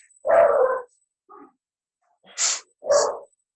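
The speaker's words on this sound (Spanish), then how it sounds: "yo tengo una perrita, ¿verdad? Cualquier cosa, si oyen el escándalo, ya la están controlando" A small pet dog barks in three separate bursts, the first long and loud, then a soft short yip, then two sharper barks close by in an otherwise quiet room.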